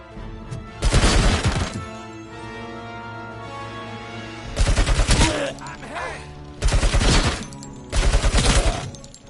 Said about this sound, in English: That machine gun, boy.